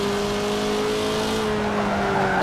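Race car tires squeal steadily as the back end slides through a corner in Forza Motorsport 7, a sustained tonal screech over a loud engine drone, with no talk.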